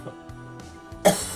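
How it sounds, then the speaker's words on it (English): Deep, vigorous coughs during sputum induction, a soft cough or two early on and then a loud, forceful burst near the end, heard up close with no talking. "Those are great coughs."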